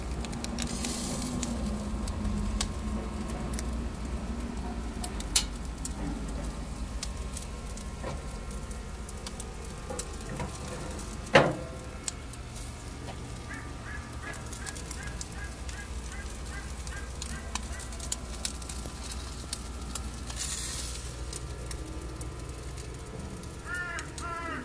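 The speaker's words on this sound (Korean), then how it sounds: "스모크 양에서 그릴링이 살살 진행되고 있습니다" Chicken steak sizzles steadily on a hot smoker grill, a constant crackling hiss with occasional pops and a few distant bird caws in the background.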